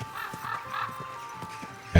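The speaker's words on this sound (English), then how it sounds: "I can't sprint through the town on my horse." Horse hooves clopping at a slow, steady walk through a town in Kingdom Come 2, a regular clip-clop rhythm at moderate volume, ending in a brief louder burst.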